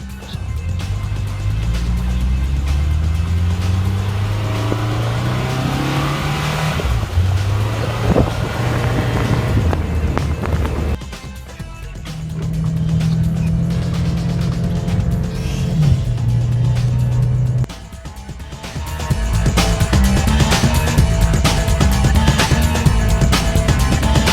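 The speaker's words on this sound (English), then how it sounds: "Let's go for a drive." Scion FR-S sports car driving on winter roads, with a steady loud engine drone whose pitch climbs through the gears, dips between shifts and settles to a rougher roar later, with wind and road noise throughout.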